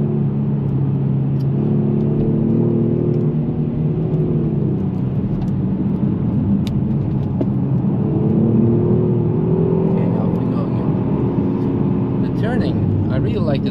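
Kia Stinger GT V6 engine driven on the Nürburgring, a loud in-car drone with its pitch rising and falling as the throttle opens and eases, steady throughout, while a person talks over it.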